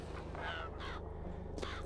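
Crows cawing in the video game Bioshock Infinite, a few harsh caws repeating at a quiet, moderate distance over a low steady game background hum.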